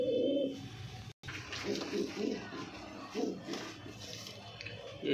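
Punjabi Malwai pigeons coo softly in a series of low, rounded, repeated calls, faint and close, over a quiet background.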